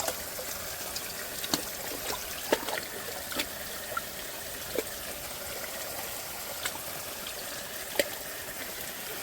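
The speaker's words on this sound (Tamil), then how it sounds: "நல்லா கலக்கிட்டு இருக்காரு, மிக்ஸ் பண்ணிட்டு இருக்காரு தம்பி." Seaweed mixture stirred in a drum on a banana farm makes wet, sloshing, trickling sounds with faint clicks and knocks at irregular moments, close and fairly quiet, with no speech.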